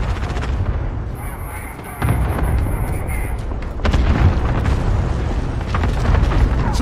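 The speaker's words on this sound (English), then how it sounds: "Allied cluster strike inbound." Cluster strike explosions in Call of Duty Modern Warfare boom loudly one after another, with sharp bursts around two and four seconds over a continuous rumble of gunfire and game voices.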